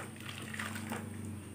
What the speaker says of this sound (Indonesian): kita rendam dulu menggunakan air hangat teman-teman ya